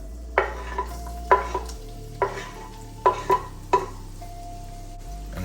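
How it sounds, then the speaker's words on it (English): Garlic and ginger frying in oil in a pot: about five sharp utensil clinks and scrapes come in uneven bursts over a faint sizzle and a steady low hum. "Now I'm going in with my garlic and ginger."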